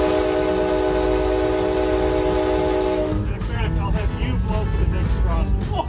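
A heritage railroad locomotive sounds a long, loud, steady horn chord. The horn then gives way to the rumble and clatter of the moving train, close by.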